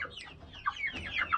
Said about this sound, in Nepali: कुखुरा हेर्नु है कुखुरा